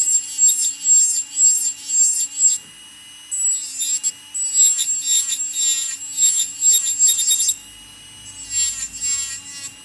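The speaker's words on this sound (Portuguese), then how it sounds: "Com o lixamento mecânico, eu tenho a garantia de um lixamento totalmente simétrico" An electric nail drill files a gel nail extension on a tip, with the bit held flat and worked back and forth. It makes repeated close, high-pitched grinding bursts in an uneven rhythm, broken by short pauses.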